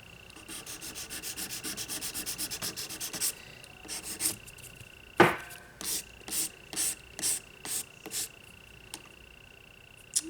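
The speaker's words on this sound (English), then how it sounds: "I'm scuffing up my mani." A nail buffer scuffs the surface of a gel manicure with an encapsulated design, quick rapid rubbing strokes at first, then slower separate swipes with gaps between, close and soft.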